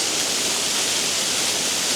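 Waterfall at Blairskaith Linn, a steady broadband roar of falling water close by, unbroken and fairly loud throughout with no voices.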